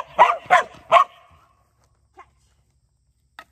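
A dog gives three quick, loud barks on cue during a tug game, then falls quiet apart from two faint, brief sounds.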